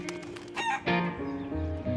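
A rooster crows loud and close, its harmonic call rising and holding over a brief stretch, with clucking and faint wing flaps from other chickens around it.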